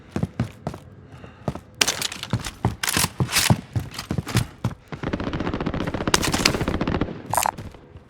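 Gunfire in Call of Duty Warzone: sharp single shots and quick bursts crack loudly and irregularly, then a sustained rapid automatic stream before a few final shots.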